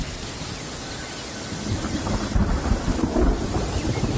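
Heavy rain and rumbling thunder in Genshin Impact, a steady dense downpour that swells louder in the second half with deep thunder rolls, no voices.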